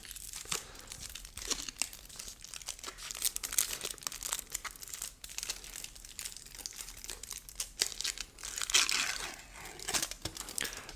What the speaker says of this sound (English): Try to get some crinkling sounds here.